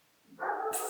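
Dogs barking, one short loud bark rising out of near silence with a sharp bright burst at the end.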